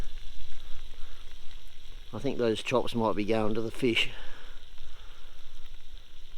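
Steak and chops sizzle on a campfire grill beside the Wimmera River with a soft, steady hiss under a voice.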